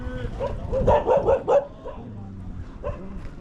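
Dogs barking on the Giza Plateau, several quick yapping barks in a cluster followed by a lone later bark, moderately close with a background hum.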